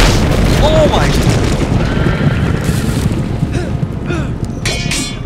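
A horse neighs amid loud battle noise and rumbling booms in the Telltale Game of Thrones video game, with a voice talking over part of it.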